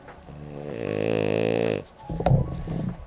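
A dog snoring with its eyes open, one long rasping rumbling snore close up, followed by a shorter grunting snuffle, with no talk.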